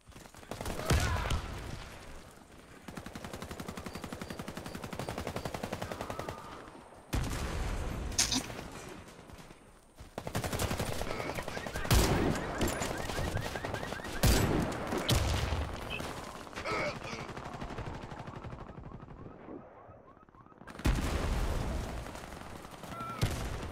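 Video game gunfire in a multiplayer shooter match, heard as bursts of rapid shots and fusillades in separate loud stretches broken by brief gaps.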